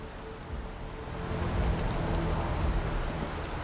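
Steady rain falls in Starfield, a soft, even hiss of drops with a low rumble underneath, continuous and moderately quiet with no talking.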